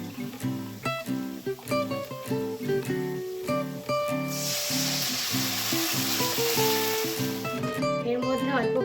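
Curry masala sizzling loudly in a hot pan as a splash of water is added and stirred, a bright hiss swelling midway, under steady background music with a voice talking.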